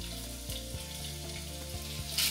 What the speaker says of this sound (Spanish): Primero sofreímos la carne solita, sin ponerle nada, ni sal.